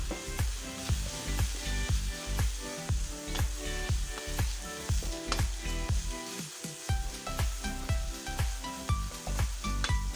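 A spoon stirs drumstick leaves and grated coconut frying in a pan for Kerala muringayila thoran. Steady sizzling runs under rhythmic scraping strokes about twice a second, close and continuous, with no speech.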